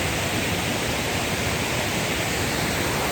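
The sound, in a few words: waterfall at Mont-Dauphin, Hautes-Alpes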